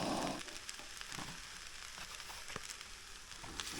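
Shrimp fried rice sizzling in a pan at a truck campsite, a steady close frying hiss with faint crackles and no talk.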